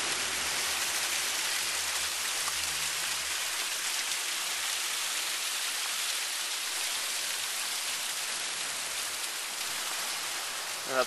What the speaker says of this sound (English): Here we have the waterfall.